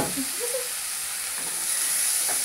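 Boiled biulir dal poured into fried spices for tarka, hissing and sizzling loudly in a steady wash of frying noise throughout.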